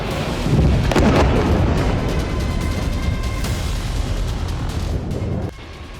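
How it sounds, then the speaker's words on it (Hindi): A deep, heavy explosion in Gaza booms out and rumbles on for several seconds, dense and loud, then drops off abruptly. "गाजा में सुबह की शुरुआत इस जोरदार धमाके से हुई।"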